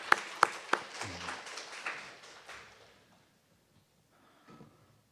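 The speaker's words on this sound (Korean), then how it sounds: "하나님께 영광의 박수 올려드리겠습니다." A church congregation at a Wednesday prayer service breaks into applause, a few sharp claps leading into a dense patter that fades to quiet within about three seconds, with a brief rustle after.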